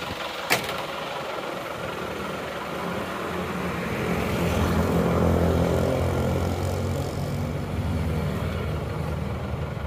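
A Panther pickup's diesel engine idles with a steady low rumble and exhaust hum, heard up close behind the vehicle and swelling slightly midway, preceded by one sharp click.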